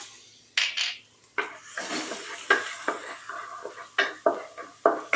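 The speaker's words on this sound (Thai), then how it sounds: "พัดกระเทียมให้เหลืองหอมเลยค่ะ" Chopped garlic sizzles in oil in a wok, with a metal spatula stirring and scraping repeatedly against the pan in irregular clanks over a steady frying hiss, close and fairly quiet.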